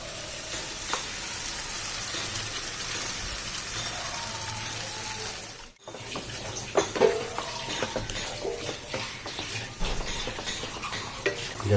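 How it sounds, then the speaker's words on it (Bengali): Spice paste for paneer butter masala is stirred in a pan over medium heat, giving a steady loud sizzle with scraping and clinking of the spoon against the pan, close up and without talking. "গ্যাসটাকে মিডিয়ামে করব এবং মশলাটিকে ভালো করে নাড়তে থাকবো।"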